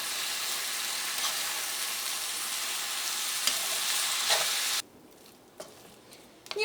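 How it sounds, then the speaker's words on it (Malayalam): Masala filling for vegetable puffs is stirred in a hot pan, a steady close sizzle with scraping that stops abruptly near the end, leaving faint clinks and quiet room noise. "ഇതെല്ലാം കൂടിയിട്ട് നന്നായിട്ടൊന്ന് മിക്സ് ചെയ്യുക."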